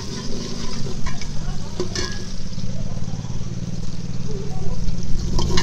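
Onions sizzle and fry in ghee in a home kitchen, with a steady, dense crackle continuing throughout and a low rumble beneath.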